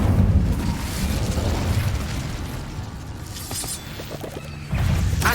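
The Incendio fire spell is cast in Hogwarts Legacy during combat. It lands as a loud burst of fiery rushing noise with crackling texture and a renewed whoosh near the end, over a dense game soundscape.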